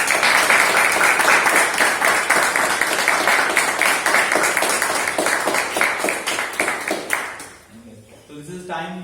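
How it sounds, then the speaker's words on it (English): A meeting audience claps loudly in dense, sustained applause that fades out near the end, leaving a few quiet words of talk. "So please, a huge round of applause for ourselves"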